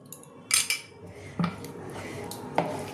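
A spoon scrapes and clinks against a pan while custard powder mixture for pepper barfi is stirred, with a few sharp metallic knocks over a soft, steady background.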